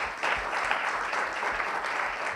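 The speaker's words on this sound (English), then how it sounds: "let's give a round of applause" At a pitching event, a small audience claps briefly, a soft, steady wash of applause that is somewhat distant and modest in volume.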